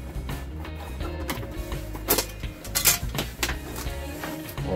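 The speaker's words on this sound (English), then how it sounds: "Let's open the two screws at the bottom here to get access to the ballast itself" Screws being undone on the metal housing of a Philips SGS201 lamp fixture holding an old 70W preheat SON ballast, with scraping, rattling and a couple of sharp metallic clanks, close and moderately loud.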